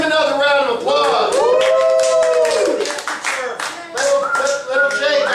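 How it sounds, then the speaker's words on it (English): Crowd clapping and cheering for performer Little Jake Mitchell, a dense, steady patter of hands mixed with loud voices calling out, easing briefly midway before swelling again near the end. "Give him another round of applause."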